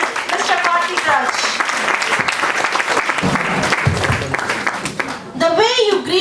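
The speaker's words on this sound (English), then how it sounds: "Let's show our appreciation with a big round of applause for our esteemed guest, Mr. Karthik Raj." An audience at a college MBA induction day applauds steadily with dense, sustained clapping, and a voice starts talking as the clapping tapers off near the end.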